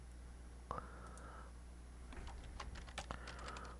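Keyboard keys and mouse buttons click at a computer during animation editing, scattered taps and bursts of typing close up and quiet over a faint steady hum, with no talking.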